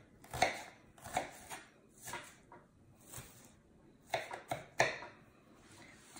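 A knife chops fresh herbs on a board in short irregular clusters of crisp taps, close and fairly quiet, with pauses between bursts.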